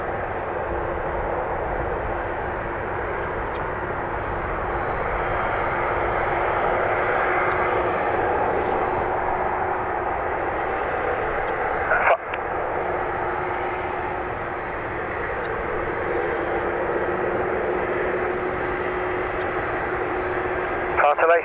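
An airplane takes off from Dublin Airport, its engines a broad, steady roar that swells and holds for about twenty seconds, fairly loud throughout, with a voice speaking over it.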